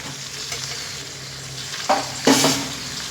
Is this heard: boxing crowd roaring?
no